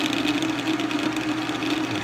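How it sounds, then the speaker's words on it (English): A metal lathe facing off the end of a rod, a steady close mechanical hum with a fast rhythmic knock running evenly throughout, no talk. "It's called the lathe. It's a metal lathe."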